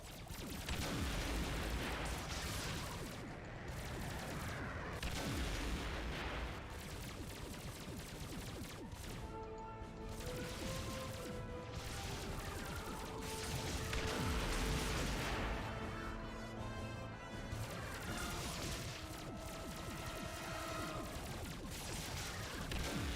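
Space battle in the game X-Wing Alliance: rapid laser bursts, booming explosions and crashing impacts pile up continuously, loud and dense, with tonal electronic effects weaving through the barrage and no talking.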